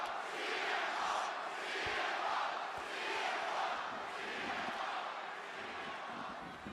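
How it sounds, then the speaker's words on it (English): A wrestling crowd at a WWE Raw event cheers for CM Punk, a loud, dense arena roar that holds steady for the whole stretch with a few sharp thuds underneath. "Oh, they cheering CM Punk."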